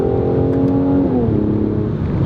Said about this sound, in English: Exhaust sound good, engine sounds good.